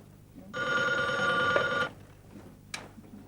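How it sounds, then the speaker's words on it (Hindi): A telephone bell rings steadily for over a second, loud and close, then stops; a faint click follows in the quiet room. "मैं टेलीफोन सुनता हूँ।"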